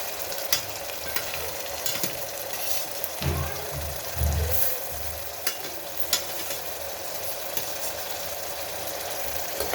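Chopped curry ingredients frying in a pan for a home-style boti curry, a continuous loud sizzle with scraping stirs and a low rumbling hum underneath.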